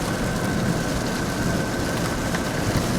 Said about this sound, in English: the rain is coming down pretty hard now